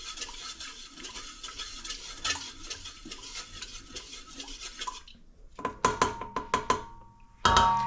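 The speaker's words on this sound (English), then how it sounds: "We're going to give this a stir just to let the sugar and everything incorporate and just melt down in there." Spoon stirring a sugar and salt mixture for Easter bread, with a soft rhythmic swish in a bowl, then sharper clinks and taps against the rim toward the end.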